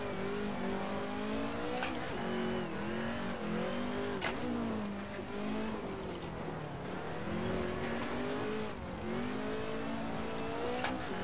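A Group B rallycross race car in Assetto Corsa, its engine droning and revving steadily throughout, the pitch dipping and climbing through repeated gear changes, loud and close with no talking.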